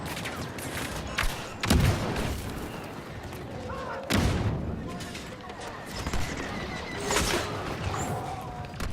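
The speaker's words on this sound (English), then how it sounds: "it's a little submachine gun thing" A small submachine gun firing in Star Wars Battlefront 2, with bursts of shots and booming impacts amid dense game noise, and a voice talking over the action.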